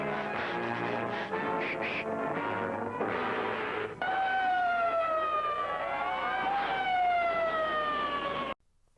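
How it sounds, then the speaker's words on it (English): A cartoon dog running fast makes a loud, continuous wailing siren sound like an ambulance, with rising and falling tones over busy music that cuts off abruptly at the end. "he's running really fast, and he sounds like an ambulance or something"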